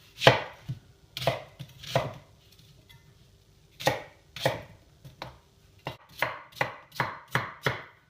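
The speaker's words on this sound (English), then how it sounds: "you want to chop up all your veggies, just roughly in your pot" Vegetables for beef stock are roughly chopped with a knife on a board: bursts of sharp, close chops in uneven clusters with short pauses, ending in a quicker run of strokes, with no talking.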